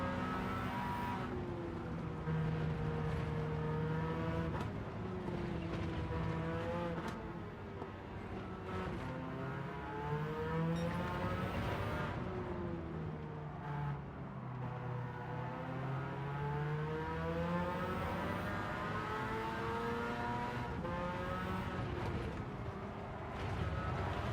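Car engine revving continuously in a racing video game session, with rising and falling engine tones as gears shift, steady and loud throughout.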